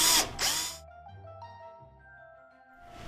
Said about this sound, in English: I'm gonna drill a hole with my 5/16 drill bit so that there's room for that leg to go right through this board.